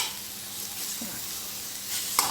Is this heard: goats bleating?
no